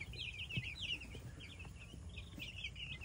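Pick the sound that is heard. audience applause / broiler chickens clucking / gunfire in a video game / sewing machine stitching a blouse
broiler chickens clucking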